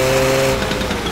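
Tuned car engine fitted with an aftermarket muffler in the driving game picar3, idling with a steady low drone and harmonic hum that fades into a rougher, uneven rumble near the end, close and alone without talk.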